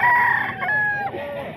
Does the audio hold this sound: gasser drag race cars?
no